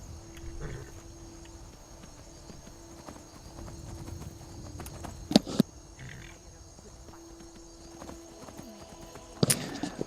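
Horse hooves clip-clopping steadily in the Skyrim video game, a quiet rhythmic walking gait over outdoor ambience with a couple of sharper knocks and a faint whinny.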